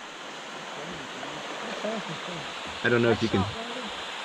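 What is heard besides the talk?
small waterfall and swirling creek water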